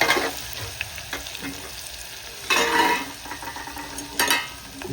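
Chili thecha sautés in hot oil with cumin, a soft continuous sizzle broken by two louder bursts of stirring and scraping against the pan.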